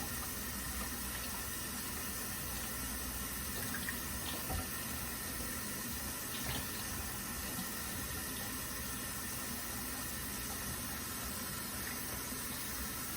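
A steady stream of running tap water splashes continuously into a sink while an ink bottle for an Epson ET-2720 printer is rinsed, with a few faint clinks partway through.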